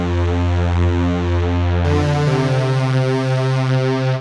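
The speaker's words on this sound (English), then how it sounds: "Synthetic strings." A synthetic strings tone from a Vangoa Aerophone MAE 02 wind controller plays sustained, legato notes with a smooth pitch change partway through, steady and loud with no other sounds.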